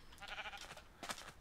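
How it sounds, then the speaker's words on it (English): A blocky sheep in vanilla Minecraft bleats faintly, a short wavering cry followed by a second brief bleat, heard alone. "Hey, stupid sheep."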